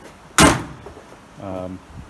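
A car door on a GTM kit car build swings shut with a single solid slam, close and loud, followed a moment later by a short stretch of speech.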